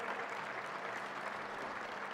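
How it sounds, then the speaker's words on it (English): Broad, dense applause from a large crowd for young prize-winning participants of a run event, continuous and even with no breaks. "Let us keep the applause going as these young participants"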